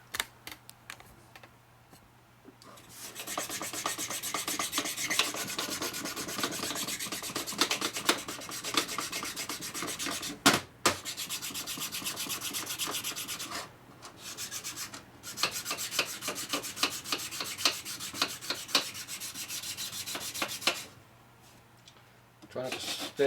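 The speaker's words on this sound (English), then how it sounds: "Then I can hone a little better. Won't bounce around so much." Hand honing of a 1946 Harley knucklehead engine part on a flat table, with bursts of close scratchy rasping strokes separated by short pauses, interrupted by a few sharp knocks, with some talk in places.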